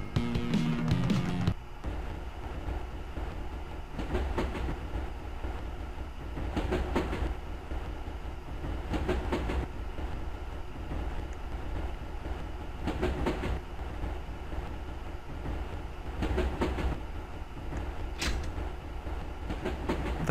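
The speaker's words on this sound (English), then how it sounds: "Let's board the train!" A video game train rolls along in Shut up and Jam Gaiden, a steady low rumble with periodic clacking bursts at regular intervals, moderately loud, with a brief busier clatter at the start.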